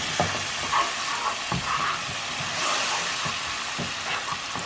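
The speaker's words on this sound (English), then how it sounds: "you're going to add your Worcestershire sauce into that" Worcestershire sauce sizzles and crackles in a hot pan for meatloaf, a steady loud frying hiss with soft stirring scrapes and taps throughout.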